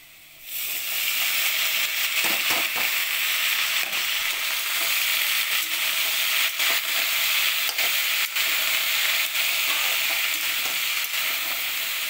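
Spring onion stalks sizzle and crackle steadily in a hot frying pan, a continuous close hiss with occasional pops and light stirring clinks, no voices.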